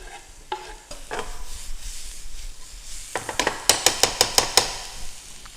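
Shallots and garlic sautéing in a pan with a gentle sizzle. Scraping strokes come first, then a fast run of sharp metallic taps of a utensil against the pan.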